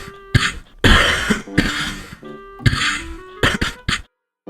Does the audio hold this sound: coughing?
yes